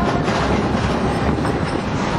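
A cable-pulled scenic railway train runs along its track with a loud, steady rumble and rattling clatter of wheels that continues without a break.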